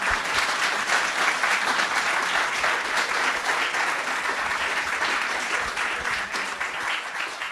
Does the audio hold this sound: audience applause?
yes